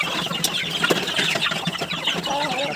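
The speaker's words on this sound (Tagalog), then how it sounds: "Yung ating ibang mga native chicken guys nandun sa ilalim." Native chickens cluck from beneath a farm cage after feeding, a busy mix of soft clucks and scattered chirps with occasional wing flutters, steady and close throughout.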